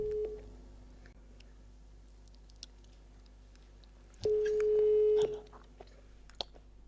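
A phone call rings out: a short tone sounds at the start, then one clear, steady ringback tone lasts about a second mid-clip, with quiet line hiss and faint clicks between.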